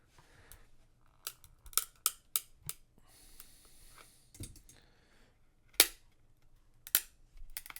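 Plastic graded card slabs from CSG and SGC being pried and cracked open, a string of sharp snapping cracks and clicks at close range, some in quick bursts and others spaced apart, with no talking.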